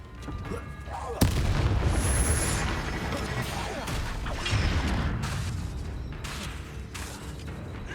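A Bombarda explosion spell goes off in the Hogwarts Legacy video game with a sudden heavy boom, then rumbling, crackling debris and battle effects, while a voice speaks over the action.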